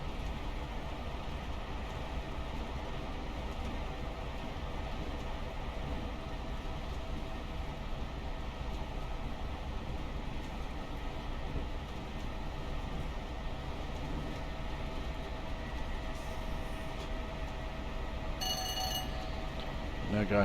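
Class 411 4-CEP electric multiple unit from Train Simulator Classic running steadily at speed, a continuous broadband rumble and rail roar with faint tonal motor whine, loud and unbroken throughout with a brief higher chime near the end.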